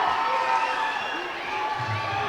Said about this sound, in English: The crowd's going crazy here.